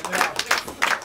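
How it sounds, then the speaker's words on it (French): An audience applauding improv performers at an improv festival in Paris, a brief burst of several claps in quick, uneven succession, close and fairly loud. "On peut les applaudir."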